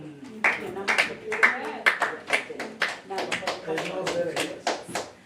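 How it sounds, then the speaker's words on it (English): A church congregation at a Sunday service claps for the choir in a fairly regular rhythm of distinct claps, close and moderately loud, with people talking and calling out over it. "Can you clap for the choir?"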